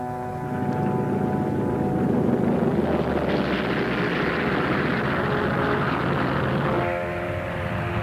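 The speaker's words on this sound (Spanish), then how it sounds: "Los aviones japoneses también atacaron a la propia Singapur." Japanese World War II aircraft attacking Singapore, a steady, loud droning roar of propeller engines holding across the whole stretch with no voices.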